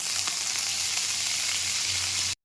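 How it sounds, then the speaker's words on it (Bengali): Crushed garlic dropped into hot oil sizzles in a loud, steady, close hiss for a couple of seconds before cutting off abruptly. "তেলের ভিতরে রসুন খেতো করে দিয়ে দিলাম"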